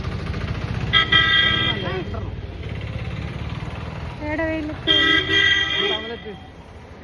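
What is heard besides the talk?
car horn honking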